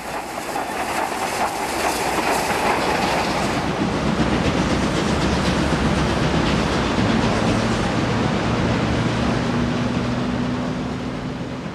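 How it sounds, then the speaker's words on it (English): The Outeniqua Choo-Choo steam train on South Africa's Garden Route coast runs along the rails, a continuous loud rumble with clattering wheels and a low steady tone emerging later. "The train puffs its way heroically along spectacular coastal"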